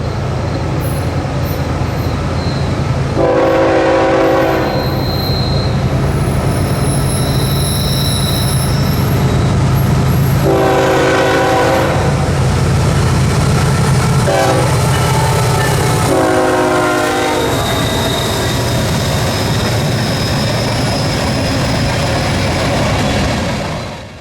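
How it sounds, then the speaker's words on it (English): A GE Evolution (GEVO) diesel locomotive leads Florida East Coast train 228 northbound out of New Smyrna at Spruce Creek on a crisp morning. Its horn sounds four blasts, long, long, short, long, over a steady engine rumble and rolling train noise. "the unmistakable sound of a GEVO echoed through the crisp morning air"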